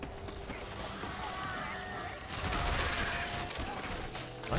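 Gunfire in the space game Starfield, a steady rattling stream of rapid shots that grows louder and denser about halfway through, set against continuous game ambience.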